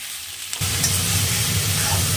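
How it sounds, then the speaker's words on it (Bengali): Pointed gourd, potato, onion and two split green chillies hit hot oil in a pan and begin sizzling loudly after a brief quiet moment, then fry with a constant crackling hiss. "পটল, আলু আর পেঁয়াজ একসাথে ভাজা করছি, আর 2টো লঙ্কা দিয়েছি চিড়ে"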